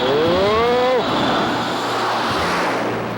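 An F/A-18 jet passing over an aircraft carrier: a loud, broad engine roar with a falling whine early on, sustained and close throughout, with no voices.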